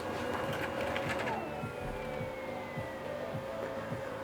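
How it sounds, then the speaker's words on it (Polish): A Brother MFC-7820N laser printer runs a print job, giving a steady mechanical whir and hum with repeated rhythmic clicks and feed noises, close and fairly loud, with no voices. "Zobaczcie, jak to drukuje mimo wszystko."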